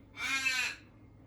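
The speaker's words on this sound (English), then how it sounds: "Bloody crow, seriously." A crow gives one harsh, drawn-out caw outdoors near electrical wiring work for stop switches. The call is loud and close, heard alone without talk.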